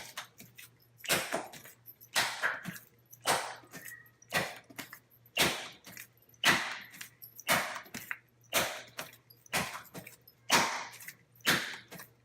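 Levain baguette dough being French-folded by hand, slapped and stretched in a steady series of about a dozen close, wet smacks roughly one second apart, with no talking.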